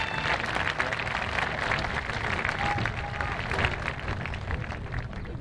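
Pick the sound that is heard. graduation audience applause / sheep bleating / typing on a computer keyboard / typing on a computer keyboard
graduation audience applause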